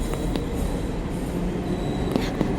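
A train rumbles past nearby with a dense low roar, metallic wheel clatter and brief squeals on the rails.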